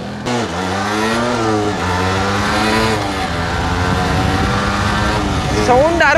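A Yamaha RX135 two-stroke motorcycle revs loudly up close, engine pitch rising and falling in several sweeps, with a person's voice heard briefly over it.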